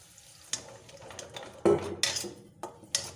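A spoon scrapes and knocks against a pan while spices are stirred with a little water for aloo dum, giving several distinct close metallic clinks and scrapes spaced irregularly over a quiet background.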